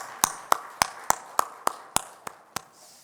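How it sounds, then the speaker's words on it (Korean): A church congregation claps together in a steady, even rhythm: about nine sharp, evenly spaced claps over three seconds, with no talking. "다시 한번 영광의 박수 올려드릴까요?"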